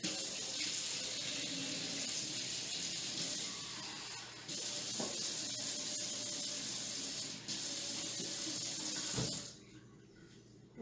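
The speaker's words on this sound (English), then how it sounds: "So I'm just gonna get my hot water." Hot water gushes steadily from a kitchen faucet into a sink, a close, full rushing hiss that runs for several seconds before the flow is cut off.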